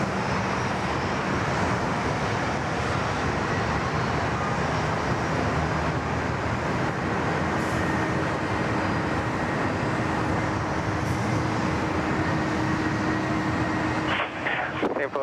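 A Singapore Airlines airliner rolls for takeoff on runway 34 left at Sydney Airport, its jet roar a steady broadband rumble that holds loud and constant throughout, with a faint shift near the end.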